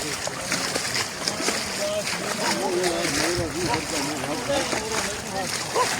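Fast-flowing floodwater splashes and rushes continuously as it inundates a village settlement, a steady loud wash with someone talking over it throughout.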